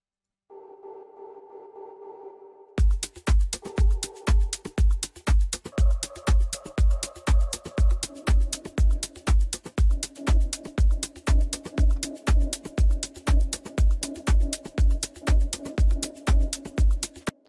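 Sustained synth pad notes ring with a reverberant wash, soon joined by a steady, punchy thumping beat that repeats throughout.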